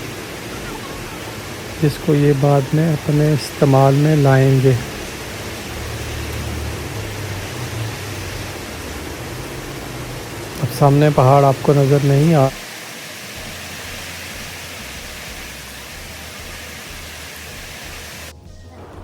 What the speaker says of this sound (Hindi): और बारिश चेक करें कि कितनी स्पीड से वो लगी हुई है